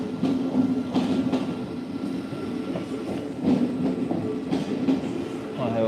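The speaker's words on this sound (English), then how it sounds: "So I am at Farringdon station and the train is leaving." A train pulling out of Farringdon station rumbles and clatters nearby, with a steady rolling roar and rhythmic wheel noise throughout. There is no talk over it.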